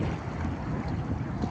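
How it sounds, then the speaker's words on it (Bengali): A speedboat running on open water at a busy seaside spot, a steady rushing engine and water roar with wind buffeting, continuous and moderately loud throughout. "স্পিড বোট দেখতে পাচ্ছেন।"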